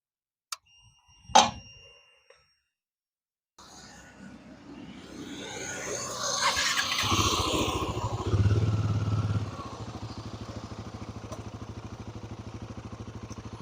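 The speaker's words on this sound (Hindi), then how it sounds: "मैं आपको अपने बाइक की इंजन की आवाज सुनवाता हूं" A Royal Enfield Himalayan 450 motorcycle engine starts after a couple of clicks, revs up briefly, then settles into a steady, close idle rumble.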